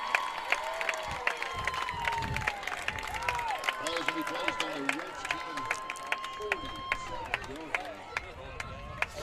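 Kingston fans in the stands at a football game against Davis voice displeasure at a referee's call, a broad crowd murmur and scattered shouts running under a commentator's steady talk.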